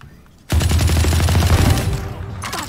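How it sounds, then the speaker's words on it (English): A swarm grenade goes off in the Valorant game, a sudden loud burst of rapid crackling detonations that rattles on for over a second before tapering, followed by a faint trailing echo. "Swarm grenade out."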